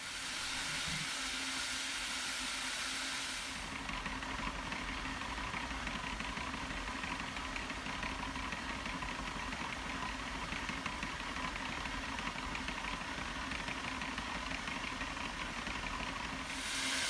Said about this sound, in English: the first thing we did was run this DAC winch engine, which was just recently rebuilt by the Roaring Camp shop crew